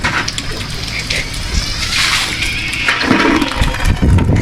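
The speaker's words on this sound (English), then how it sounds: "you dash cold water on me" A loud rush of cold water being splashed onto a person, pouring and splashing close by, continuous and sloshing throughout.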